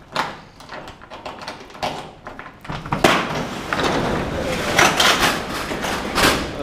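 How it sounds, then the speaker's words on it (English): Doors on a 1980 second-generation Chevrolet Camaro are opened, giving several sharp clunks and latch clicks near the listener amid rustling handling noise and a brief voice. "we're going to open the doors if I can."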